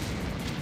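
Artillery fire in the video game War of the Human Tanks: a dense, continuous low rumble of booming shots packed tightly together, loud and steady for the whole moment with no voices.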